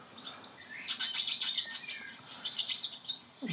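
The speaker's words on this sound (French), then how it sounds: "Ça, a l'air une hirondelle. Et voilà, c'est une hirondelle." A swallow twitters in two bright bursts of rapid chirps and trills, fairly close, with a short quiet gap between them and a faint low background.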